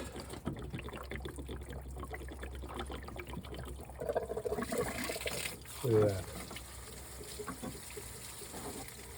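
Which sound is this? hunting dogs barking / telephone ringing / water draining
water draining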